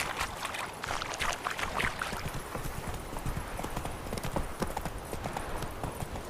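A horse gallops in The Witcher 3 video game, rapid hoofbeats pounding at a steady pace, moderately close, with a rushing wash of ambient noise behind them.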